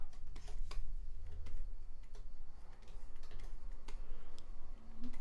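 A computer keyboard and mouse click steadily while a character is drawn for a video game, with many crisp, closely miked taps and clicks at an uneven pace over a low steady hum, with no talk.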